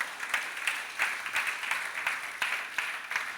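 A church congregation claps together in a loose, roughly steady rhythm, a full crowd of hands sounding close and continuous for a few seconds.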